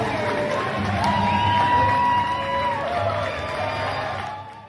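Washington State University basketball fans send off their team as it leaves for a road tournament, a crowd cheering and whooping at moderate distance with shouts rising and falling, then trailing off at the end.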